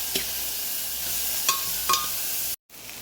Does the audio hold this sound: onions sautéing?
yes